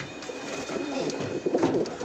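Racer and Giribaz pigeons cooing nearby, a few soft throaty coos rising over light background noise.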